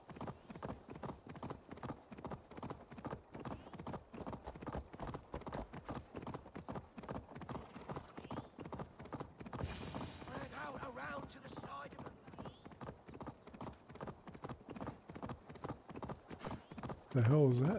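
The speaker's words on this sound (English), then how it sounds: "I love just being able to set my horse to auto run." Steady hoofbeats of a galloping horse in the video game Assassin's Creed Valhalla clip-clop on and on, with a brief whinny near the end, while a voice talks over them.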